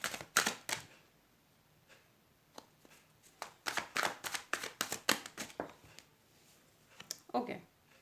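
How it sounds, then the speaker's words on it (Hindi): Tarot cards being shuffled by hand, a run of sharp crisp riffling bursts and slaps, close and fairly loud, with brief pauses between flurries and a final quick shuffle near the end. "देखो आप ही के सामने कार्ड शफल करे हैं"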